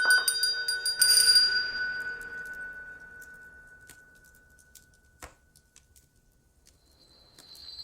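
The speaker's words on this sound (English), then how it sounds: "soon it rang out loudly, and so did every bell in the house" Bells ring out with bright metallic strikes at the start, then the tones ring and fade, with a few scattered lighter chimes afterward.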